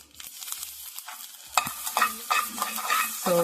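Curry leaves dropped into a small amount of oil over a low flame for a leftover-rice dish, with soft crackling and sizzling bursts that build after a quieter start, along with stirring scrapes and no voices.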